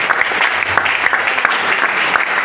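Loud, sustained clapping from a church congregation, thick and continuous with small bursts of sharper claps, heard alone without speech.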